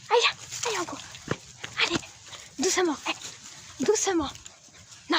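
A pet dog on a walk gives short whimpers and yelps between quiet moments, close by, while someone speaks softly to it in French.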